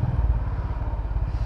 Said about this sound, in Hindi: अभी मैंने एक थ्रोटल ही दिया ही है